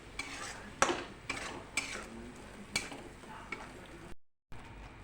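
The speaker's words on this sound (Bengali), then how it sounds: "জলটা দিয়ে মশলাটাকে ভালো করে একটু কষাবো" A spice paste is stirred and fried with a splash of water in a pan for a chicken curry, with soft sizzling and repeated scraping strokes of a spoon, quiet and close, with no talking.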